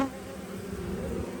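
Honeybees buzz around the hive entrance, a steady close drone of many wings humming together with no voices.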